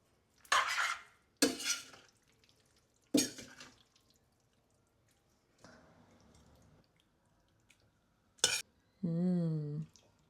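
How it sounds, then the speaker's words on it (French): Cooked pappardelle being stirred into a harissa rose sauce, heard as several separate wet scraping strokes with quiet gaps between them, ending in a brief squeaky scrape. "une fois que vos pâtes sont cuites, vous allez les incorporer dans votre sauce. On mélange bien"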